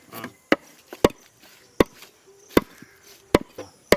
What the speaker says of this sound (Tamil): இதை நறுக்கி போடு